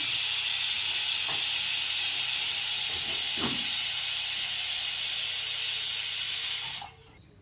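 A pressure cooker of methi rice made with Sona Masuri rice hisses loudly and steadily as steam escapes, a sustained rushing release that cuts off abruptly near the end, with no talking.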